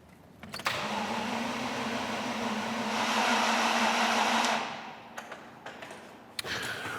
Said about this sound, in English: So I'm just going to crank it over again,